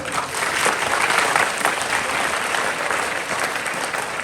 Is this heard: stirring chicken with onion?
no